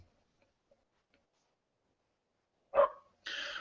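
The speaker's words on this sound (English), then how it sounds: "excuse the dog in the background, sorry about that" A dog barks once in the background of a quiet room, followed by a short sustained whine or howl, both fairly faint against near silence.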